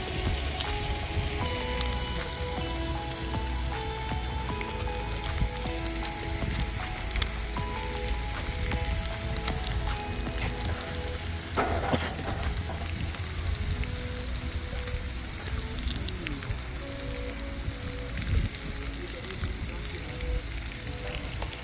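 A salt-and-pepper seasoned steak fries in a pan with garlic and rosemary, a dense, continuous close sizzle and spatter that holds steady throughout, with occasional stirring knocks and a faint tonal hum beneath.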